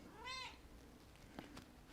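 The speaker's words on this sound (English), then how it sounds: "Hello, cat." A cat gives a single clear meow, fairly close, against a quiet room during a yoga workout session, followed by faint small movement noises.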